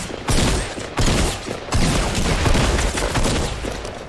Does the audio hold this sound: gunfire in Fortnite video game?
yes